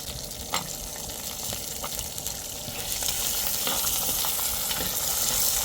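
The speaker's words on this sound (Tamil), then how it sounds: "அடுத்து வந்து வெங்காயம் போட்டுக்குவோம்" Small onions sizzling steadily in a pan of hot oil for a dried anchovy curry, a close, continuous fry that grows a little louder and brighter partway through, with a few faint clicks and no talk.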